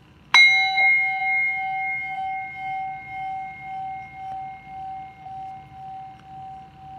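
A single bell is struck once during a tarot reading, a bright metallic ding whose pure ringing tone sustains and slowly fades over several seconds with a gentle pulsing shimmer, close and clear against quiet room noise.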